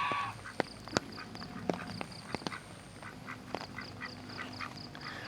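A duck quacks several times at close range at a campground, short nasal calls spaced irregularly among light clicks and outdoor background noise.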